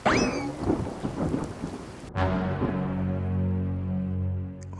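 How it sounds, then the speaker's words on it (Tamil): A sharp crack of thunder breaks over steady rain falling on surfaces, followed by a long low rumble that rolls on and slowly fades beneath the continuous downpour. "ஐயையோ, மழை பெய்யுது போல."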